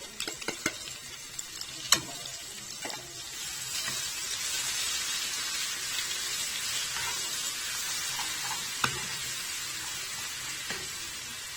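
Garlic and coriander sizzling in spoonful of country ghee for a molokhia tempering, a continuous bright hiss that swells and holds, with a few sharp clinks of a spoon at the start, close and steady, no talking.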